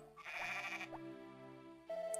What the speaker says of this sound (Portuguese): é a Jane, é a minha ovelha mais velha